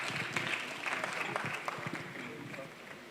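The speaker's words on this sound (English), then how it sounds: "Please give him a round of applause." A crowd applauds steadily for a university lecturer, dense clapping filling the room with a few voices mixed in, fairly close and sustained throughout.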